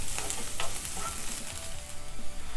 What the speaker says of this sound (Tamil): இப்போ இதை வந்து நல்லா வதக்கிக்கலாம்.